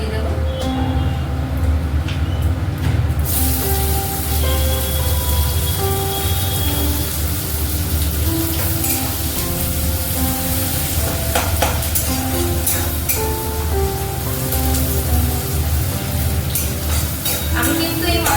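Onions hit hot oil with bay leaf and five-spice tempering in a pan for mourola fish chorchori, a loud steady sizzle that runs throughout with occasional stirring scrapes.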